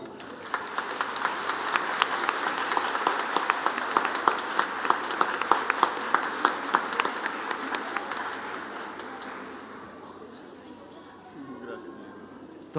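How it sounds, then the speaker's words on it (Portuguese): A congregation at Mass in church claps for a one-month-old baby being presented, with sustained rhythmic applause that fades out after about ten seconds, leaving faint room sound. "Olha, vamos aplaudir?"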